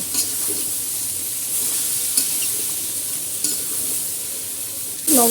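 Carambola pieces tipped into a pan while making pickle, with a steady sizzling, stirring hiss, a few faint clicks, and a louder clatter right at the end, without talk.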